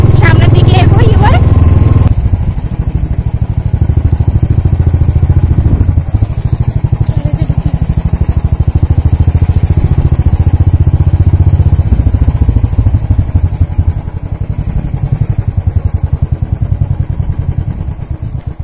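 A Royal Enfield Thunderbird 350X motorcycle rides along with a steady, loud engine thrum close by, a heavier burst of noise at the very start, and a rider talking over it.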